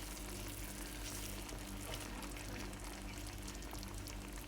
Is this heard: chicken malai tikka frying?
yes